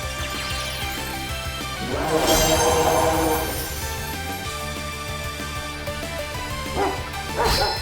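Dog Pokemon barking in the Pokemon Scarlet and Violet video game, repeated bow-wow yips over continuous game music, with a louder burst in the middle and more barks near the end.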